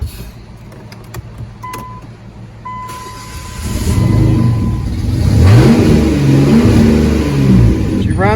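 A Dodge Journey with a no-start fault cranks with a short electric whine, then catches and runs a little rough before revving up in rising surges, with someone speaking around it.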